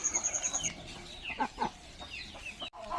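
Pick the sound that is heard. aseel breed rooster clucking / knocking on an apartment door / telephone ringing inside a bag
aseel breed rooster clucking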